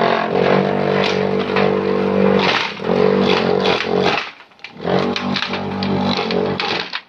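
A simple chopping machine runs steadily with a loud, buzzing motor drone, briefly dropping off and then starting up again partway through.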